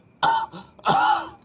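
A person coughs twice, loudly and close by, with a harsh, throat-clearing quality and a short pause between the two bursts.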